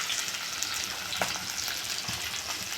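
Curry leaves fry in oil for a curry-leaf chutney with tamarind. A steady, close crackling sizzle runs throughout, with faint stirring scrapes and no voices.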